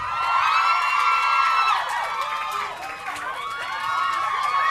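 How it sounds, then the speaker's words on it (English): A studio audience cheers, whoops and shouts in a loud, sustained wave of crowd noise that swells and dips but never drops out. "Keep cheering and whooping and so on because it makes them feel welcome."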